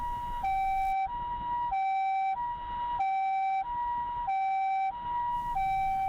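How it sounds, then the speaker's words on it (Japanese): A Japanese ambulance siren sounds steadily, alternating between two tones about every half second, heard fairly faintly as though from inside a well-soundproofed car. "救急車のサイレンが聞こえるようご協力をお願いいたします"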